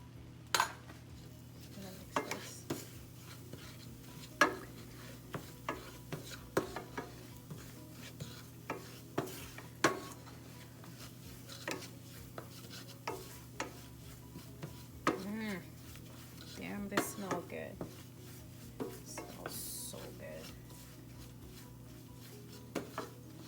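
Onion powder and Italian seasoning being stirred together in a bowl for a seafood boil, with frequent light clinks and scrapes of a utensil against the dish and a steady low hum behind.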